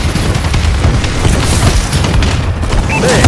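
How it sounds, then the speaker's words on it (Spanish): Allied bombardment in Call of Duty: Advanced Warfare online multiplayer on PS4, a loud, continuous roar of overlapping booming explosions that rumbles on without pause. "Bombardeo aliado en camino."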